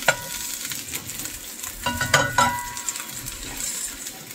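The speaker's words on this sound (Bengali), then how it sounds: "এই যে ডিম ভাজা হয়ে গেছে, এখন এটারে নামাবো" A Korean-style egg omelette sizzles steadily in an oiled pan while two spatulas scrape and stir it, with a few light metallic clinks midway. No talking is heard.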